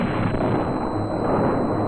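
Dynamite blast set in drilled holes on steep canyon rock walls, heard as a steady loud rumbling roar that holds through the whole stretch with no distinct single bang.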